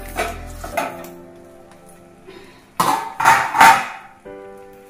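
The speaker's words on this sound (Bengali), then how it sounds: "এবার আমি থালাটা তুলে নেব।" A metal plate clatters as it is lifted off a covered pan while Ilish Paturi cooks, giving several sharp, ringing clinks and scrapes close by, spaced irregularly with quiet gaps between and no talking.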